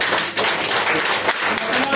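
Attendees at an RCM marketing-plan meeting give dense, loud, sustained applause, with many hands clapping together from start to finish.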